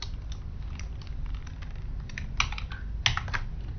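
Steady keyboard typing of code at close range, with continuous key clicks and a few sharper, louder strokes near the end; no voices.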